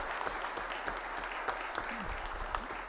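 An audience at a formal ceremony in a legislative chamber, held to award a medal, gives a round of applause, a moderately loud, steady patter of clapping with a low hum underneath.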